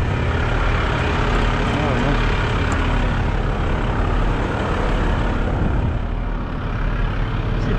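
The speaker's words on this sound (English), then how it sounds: "The actual engine from the truck is more louder than this one." Vector HE19 vehicle engine idles quietly with a steady, continuous low rumble and broadband hum that holds evenly throughout.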